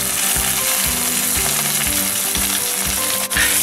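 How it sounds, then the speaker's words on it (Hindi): Ginger garlic paste frying with golden brown onions for mutton nihari, a loud, steady sizzle with faint clinks of a spoon stirring the pan throughout, no talking. "इसको भी प्याज के साथ अच्छे तरीके से हम भून लेंगे"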